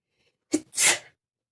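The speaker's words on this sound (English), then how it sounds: "That sneeze wasn't going to let me go." A single close sneeze, a quick sharp intake followed by a loud explosive burst, then silence.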